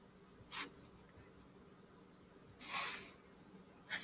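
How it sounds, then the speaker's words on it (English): Marker or pen writing numbers on a board during a math lesson on division, a few brief close scratchy strokes with quiet pauses between them. "I'm going to write"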